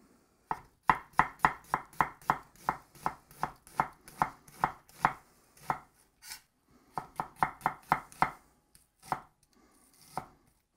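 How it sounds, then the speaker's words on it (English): Knife chopping onions thinly on a cutting board: a quick, even run of sharp, close taps, a short pause, then another burst of rapid chops and a few scattered final cuts. "Get the rest of the onions cut up."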